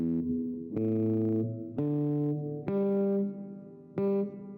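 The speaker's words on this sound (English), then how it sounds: "So you can hear as I strum, I've got the pitch detection." Electric guitar strummed in four separate chords, each ringing out with clean sustained harmonics while pitch detection software tracks the notes, close and loud with no talking.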